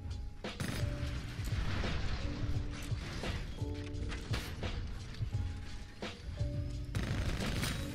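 Rapid bursts of gunfire in the Apex Legends shooter, loud and close, firing repeatedly with short pauses and mixed with mechanical clatter and game effect tones.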